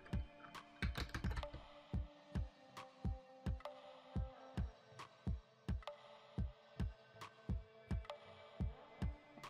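Typing on a computer keyboard, a fast flurry of keystrokes at first and then evenly spaced single clicks, about two per second, close and fairly quiet with no talk.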